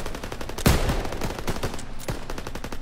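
Gunfire rattles through a Call of Duty battle at a bridge, with a loud sharp burst near the start and scattered lighter shots and thumps continuing under a dense, noisy battlefield din.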